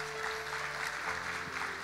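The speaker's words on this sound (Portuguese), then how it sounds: "Você pode dar um aplauso a ele?" Church congregation applauding a speaker, a continuous dense wash of clapping from many hands filling the room for the whole short stretch, with a faint musical tone underneath.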